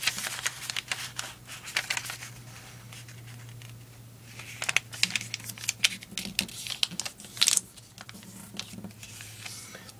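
Paper is folded and creased for an origami lotus bud, giving a run of close, crisp taps, rubs and soft crackles in irregular bursts, with no talking.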